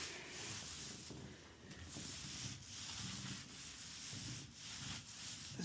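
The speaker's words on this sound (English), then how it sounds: "now I'm just going to roll it quick. We're using a 18-inch microfiber" A paint roller with an 18-inch microfiber cover rolling paint onto a wall, a soft, steady rubbing swish in repeated strokes, faint and close, with no talk.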